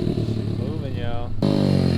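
A 140cc Apollo mini motard, a Chinese bike with a Nibbi carb and street tires, idles roughly then bogs as the throttle opens, its low engine drone steady and close before a sudden louder, fuller surge.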